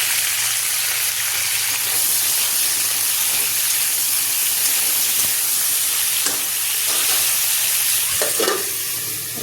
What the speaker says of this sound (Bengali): এখানে পটল আলু খুব ভালোভাবে ভাজা হয়ে গেছে